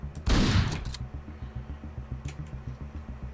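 Shotgun fire in the top-down video game Hotline Miami: one loud, close blast opens, then a steady rhythmic thumping pulse carries on alone.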